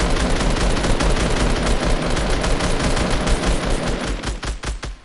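A sustained stream of rapid machine-gun fire in a battle royale video game, loud and close, with the shots thinning into separate cracks near the end.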